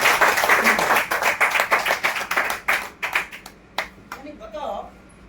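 Loud, dense clapping from a network-marketing audience, rapid overlapping claps that thin out into scattered single claps toward the end, close and bright.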